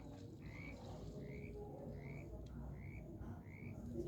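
Frog croaking in a Roblox forest survival game, five evenly spaced short chirping croaks roughly every half second over a steady low ambient forest background, no speech.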